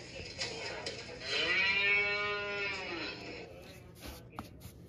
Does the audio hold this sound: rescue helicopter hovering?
no